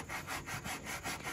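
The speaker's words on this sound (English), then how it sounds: "While Mrs. DIY continues sanding" Wood being sanded by hand for a shelf, quick rhythmic back-and-forth rasping strokes, faint but steady and close, with no talking.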